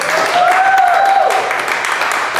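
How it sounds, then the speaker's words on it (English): An audience breaks into a dense, steady round of applause, clapping loudly and continuously from start to finish, with a whistle or cheer rising briefly over the clapping near the start. "Can I get a round of applause to start"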